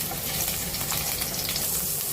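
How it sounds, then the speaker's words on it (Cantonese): Salmon pieces hit oil in a hot wok for salmon udon, giving a close, continuous hissing sizzle with faint crackles throughout and no one talking. "個鑊熱咗啦，咁我哋放埋啲三文魚落去煎。"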